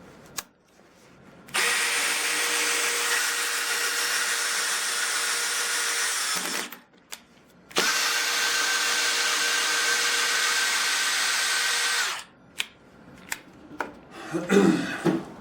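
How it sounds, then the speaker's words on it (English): Two 12V hammer drill drivers, a Dewalt DCD 706 and a Milwaukee Gen 2 2504, run in turn with loud, high-pitched motor whines, each lasting several seconds. Short pauses separate the runs, and scattered clicks and handling noises follow at the end. "the 2 hammer drill drivers I have here. The Dewalt DCD 706 and the Milwaukee Gen 2 drill driver 2504"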